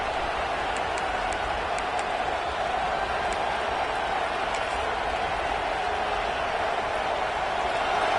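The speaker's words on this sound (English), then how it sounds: "The crowd getting behind this defense as they try to get a stop in the red zone." A football stadium crowd at an NCAA game roars steadily as the defense tries for a red-zone stop, a dense, continuous wash of cheering with faint whistles or shouts poking through.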